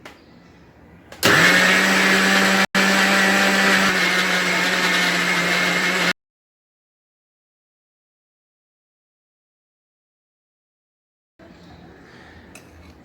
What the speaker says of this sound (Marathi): आता हे मी मिक्सरला फिरवून घेणार आहे।